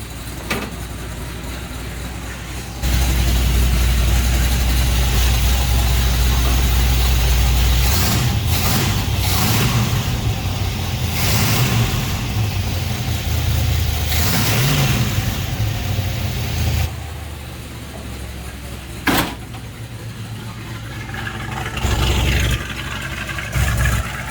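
A Challenger car engine revs repeatedly, rising and falling in loud bursts over a rough idle, close up, with no talking.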